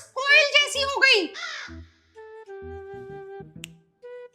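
A voice imitates a koel's call in a comic short, giving high, warbling sung notes followed by steadier tonal hoots, close and clear with short gaps between.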